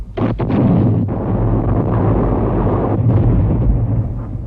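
Heavy World War I artillery at Verdun, a thousand guns shelling the French front, rendered as a loud continuous rumbling barrage with deep booms and a few sharper blasts rolling together.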